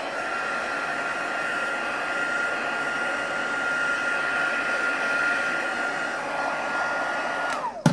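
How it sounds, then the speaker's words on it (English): A heat gun blowing over an embossed card in Stampin' Up! crafting, giving a steady whooshing hum with a constant tonal whine that continues unbroken and then clicks off at the end. "So I'm going to give it a little blast with my heat gun"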